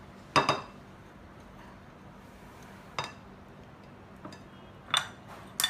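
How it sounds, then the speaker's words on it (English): A spatula scrapes and clinks against a bowl while scooping excess organic coconut oil for banana bread, a few sharp isolated taps and scrapes separated by quiet pauses. "I'm just going to scoop all the excess coconut oil with our spatula"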